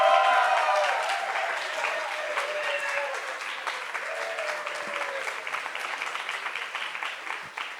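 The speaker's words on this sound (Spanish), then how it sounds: "esos fueron aplausos anticipados para Rodolfo" Applause from a seated audience at a book presentation event, a dense steady wash of many hands clapping that starts loud and eases slightly, with a few voices faintly calling out beneath it.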